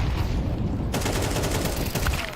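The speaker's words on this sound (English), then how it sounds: "Oh, that flashbang's perfect." Flashbang grenade going off in a Counter-Strike match, a loud sudden burst that cuts into a sustained bright hiss and ringing, with gunfire-like noise around it.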